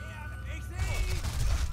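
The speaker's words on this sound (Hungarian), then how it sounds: "És ez meg már eléggé hangos lövöldözés, pufogtatás" Gunfire in Sniper Elite 3, with bursts of shots crackling over a low rumble that grows louder partway through, under background game sounds.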